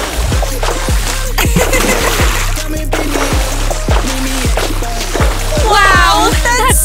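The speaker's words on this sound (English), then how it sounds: "Be careful with the splash!" Water splashes and sloshes loudly nearby while a voice talks over it and cartoonish musical effects play.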